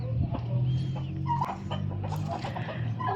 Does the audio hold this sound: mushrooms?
no